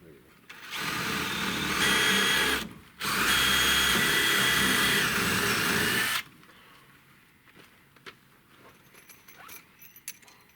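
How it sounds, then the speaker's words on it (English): A power drill drives three bolts through material in a guest house, running loud and continuous in two long bursts separated by a brief pause, then stopping into quiet handling noises. "I've come up here with a drill and 3 bolts"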